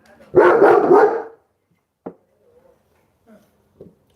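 A puppy gives a single loud, harsh bark burst close by, followed by a few faint, brief yips and noises after a short pause.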